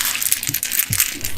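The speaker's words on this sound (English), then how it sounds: "Dropped some cards. A lot of them." A large handful of playing cards drops and scatters onto a surface in a brief, close flurry of light slaps and rattles lasting about a second.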